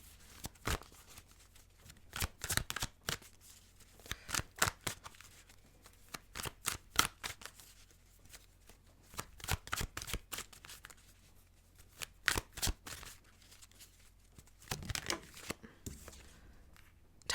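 Tarot cards shuffled and pulled from a deck, repeated crisp riffling bursts in quick clusters with short pauses between, close and fairly quiet, no talking.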